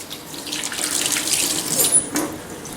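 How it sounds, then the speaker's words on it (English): Hands washing under a running kitchen tap, a continuous close stream of water splashing into a sink with slight shifts as the flow is interrupted, no speech. "you might want to consider washing your hands in between."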